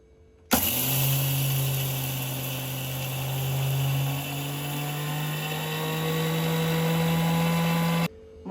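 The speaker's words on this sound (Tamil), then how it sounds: "மொத்த அரிசியும் மிக்சியில் போட்டு அரைச்சி பொடி பண்ணி எடுத்தாச்சு." A kitchen mixer grinder pulverising raw rice into powder runs as a loud, steady motor whine with a coarse rattling grind, starting abruptly and holding for about seven seconds before cutting off.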